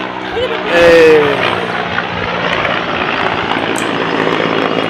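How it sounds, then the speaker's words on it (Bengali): A steady whirring engine drone fills the air like a helicopter passing overhead, with a brief voice near the start. "আরে হেলিকপ্টার।"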